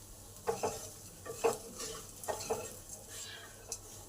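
Onions and cashews fry in a pan for upma, with a soft sizzle underneath and several clear metal clinks of a spoon stirring against the pan at uneven intervals, close and fairly quiet.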